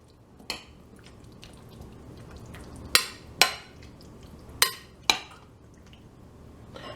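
Chicken pot pie filling of diced potatoes, celery and onion being mixed in a bowl: a few sharp clinks of a spoon against the dish, spaced apart over a faint quiet background.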